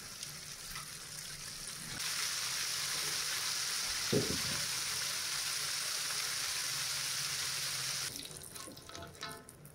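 Battered chicken sizzles in hot frying oil with a soft, even crackling hiss that swells for several seconds and then fades, fairly quiet throughout.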